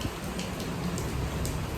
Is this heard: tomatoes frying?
no